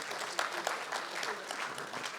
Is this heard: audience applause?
yes